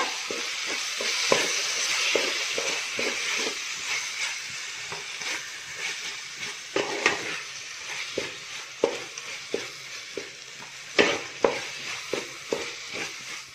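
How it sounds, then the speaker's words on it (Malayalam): Beef frying in a pan for a Kottayam-style beef roast, a continuous sizzle broken by repeated scraping and clattering stirs that grow sharper and more frequent, close up with no talking. "ഞാൻ ഇതിലേക്ക് നമ്മുടെ ബീഫ് അങ്ങ് ആഡ് ചെയ്ത് കൊടുക്കാൻ പോവാണേ. അതുപോലെ മിക്സ് ചെയ്ത് കൊടുക്കാൻ പോവാണ്."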